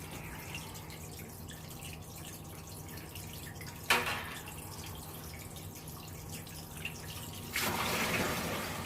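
Raw maple sap straight from the woods trickles through a small pre-filter, a faint, steady liquid patter with two louder splashes of pouring partway through.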